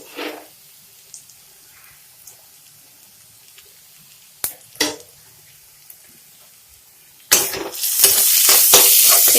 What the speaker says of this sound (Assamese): এইখিনি আৰু 2 মিনিট সময় ভাজিব লাগিব।